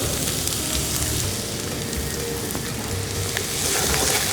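Chopped onions sautéing in a pan for a black chana masala curry, giving a steady, close sizzling hiss that stays at an even level throughout.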